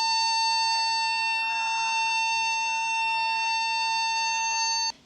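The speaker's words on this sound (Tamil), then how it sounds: "அதுக்கும் ஒரு அலாரம் இருக்குது. ஒரு கண்டினியூஸாக லாங்காக ஒரு சவுண்டு இருக்கும்." A ship's abandon-ship alarm during a crew emergency drill: a loud, steady electronic tone sounds continuously without a break, holding one pitch with bright overtones, then cuts off abruptly at the end.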